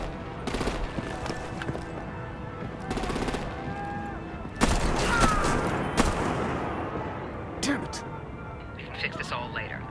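Artillery and rapid gunfire in a Batman video game come as loud bursts and crackling volleys, with heavy blasts midway and a dense rumble running underneath.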